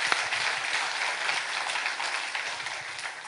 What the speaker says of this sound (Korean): 우리 하나님께 박수를 한번 영광드립니다.